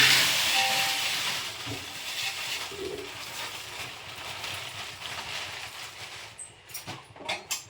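Green chillies roasting in oil in a pan, giving a continuous close hiss and spitting sizzle that is strongest at the start and eases off, followed by a few sharp knocks near the end.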